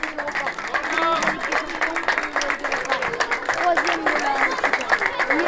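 Applause and cheering from spectators at a youth U11 football tournament as the finalists are presented, lively clapping mixed with shouting voices and crowd chatter throughout.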